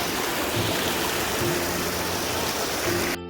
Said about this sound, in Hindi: अच्छा जी, माशाल्लाह ये झरने, पानी वहाँ से आ रहा है, ऊपर से पानी जा रहा है नीचे।